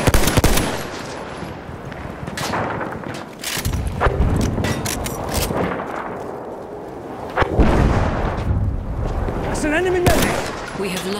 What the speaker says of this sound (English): Enemy machine gun.